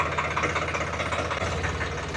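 A Road King 735 XT tractor made in Saurashtra idles close by, its engine chugging in a steady, even low rumble with a faint knocking pulse and no voices.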